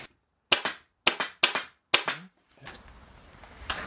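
An upholstery staple gun, about five years old, fires in a quiet workshop: several sharp, close snapping shots in a loose irregular series, some in quick doubles, followed by faint handling noise.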